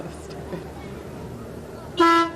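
A vehicle at a town's grand parade gives a single short, loud horn honk near the end, rising clearly over quiet crowd and street background.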